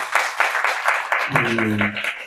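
Applause from an audience at a Spanish-language book presentation, a dense patter of clapping hands that runs steadily and then thins as a voice begins speaking over it.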